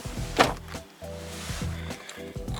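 A Volvo XC90 car door swings shut with a short solid thunk near the start, followed by muffled interior rustling and a couple of softer knocks.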